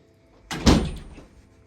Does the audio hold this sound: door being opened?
yes